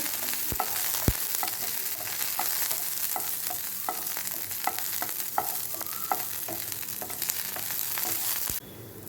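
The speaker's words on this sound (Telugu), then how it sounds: "ఈ తాలింపుని కొంచెం వేపుకోవాలి." Garlic cloves, green chillies and curry leaves temper in hot oil for a rose-petal and moringa-leaf rasam, giving a steady close sizzle with scattered pops and crackles that cuts off just before the end.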